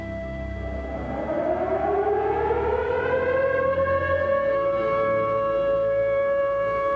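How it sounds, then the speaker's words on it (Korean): A Korean civil defense curfew siren, the nightly signal that ended the day from the post-1945 liberation era into the 1980s, winds up over a few seconds into a loud, sustained wail that holds steady, heard alone without voices. "통금 사이렌이 우리 일상의 매정한 마침표로 울리면"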